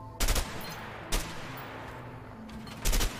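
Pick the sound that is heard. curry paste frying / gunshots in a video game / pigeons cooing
gunshots in a video game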